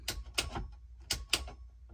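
Quick mechanical relay clicks from the wiring of a Nissan 240SX with an LS engine swap come in pairs, sharp and close, with brief gaps between each set.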